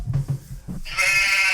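Goat bleat sound effect: a loud, sustained nasal bleat rising out of a short stretch of low mumbling, held steadily to the end.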